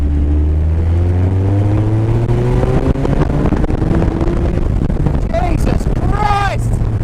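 A supercharged car accelerates hard, its engine note climbing steadily and loudly under heavy wind rush, with a person exclaiming over it toward the end.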